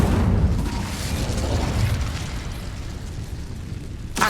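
Incendio fire spell cast in Hogwarts Legacy, a loud fiery burst up front that settles into a sustained roaring rumble, ending with a sharp crack.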